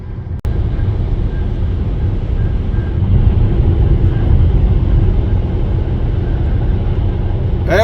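Steady road noise from a car cruising on an Iowa highway, a loud continuous rumble and hiss of tires and wind heard from inside the cabin, with a brief click near the start.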